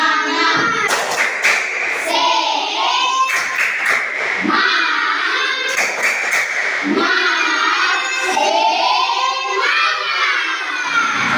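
A class of children claps the tepuk semangat rhythm together, sharp repeated bursts of clapping in patterned groups, loud and close, with children's voices singing and shouting along between the claps.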